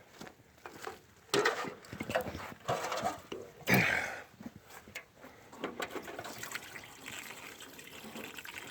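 Bog water at a shore splashes and trickles close by in irregular bursts, with rustling and a few soft movements, no talking.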